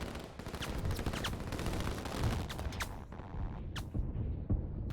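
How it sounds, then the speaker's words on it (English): Artillery fire pounds a city in the strategy video game Line War, a dense run of overlapping gunfire and booming impacts that rumbles steadily for several seconds, then thins into a few isolated sharp blasts near the end. "Over here we have the city under fire again from the artillery."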